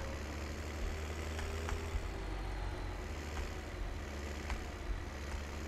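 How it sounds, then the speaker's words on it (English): A tractor engine runs in Farming Simulator 17, a steady low rumbling drone with a deep bass hum, held evenly at close range with faint mechanical ticks and no talking. "Nice agile tractor."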